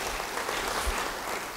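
Faint, even applause from a church congregation during a sermon, a soft continuous patter of clapping with no clear voices.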